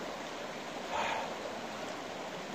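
A shallow bedrock creek in Pennsylvania flowing steadily, a continuous close rushing wash of water with a slight swell about a second in, no voices.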